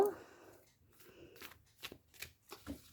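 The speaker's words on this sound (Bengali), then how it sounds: "বন্ধুরা, আমি আরও কয়েকটি কার্ড নিয়ে নেব" Tarot cards are shuffled and handled in a few quick papery bursts that grow crisper toward the end, with a soft voice murmuring faintly underneath.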